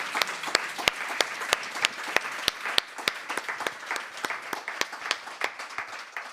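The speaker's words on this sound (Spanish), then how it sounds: "vamos a despedir con un aplauso enorme a Lola y Teresa." An audience claps in applause, with sharp individual claps standing out over a moderate crowd of hands, gradually thinning toward the end.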